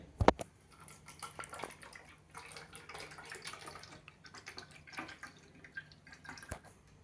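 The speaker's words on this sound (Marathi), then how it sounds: "आता आपण हे मिश्रण बाटलीमध्ये ओतून घेऊया." Homemade lemon ginger squash mixture is poured into a bottle, giving a soft, steady trickle and drip of liquid after a brief sharp clink at the start, with no talking.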